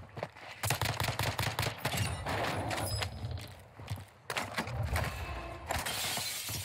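Rapid bursts of M16 burst-fire rifle gunfire in the Call of Duty Warzone video game on Ashika Island, loud and close, with short groups of shots and brief pauses between volleys, with no talking.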